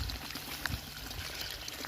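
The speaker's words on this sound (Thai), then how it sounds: "ตรงนี้เปิดน้ำเอาไว้น้ำไหล" Water left running from a pipe into a field where snails gather, a close, soft, continuous pouring and trickling with no voices.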